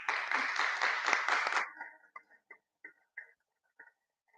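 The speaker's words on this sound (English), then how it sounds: "Please stand up and welcome them with a big round of applause." Standing audience applause welcoming twelve speakers into the hall at the opening ceremony of a speech contest: dense, loud clapping for about a second and a half, then cutting off to a few scattered, fading claps.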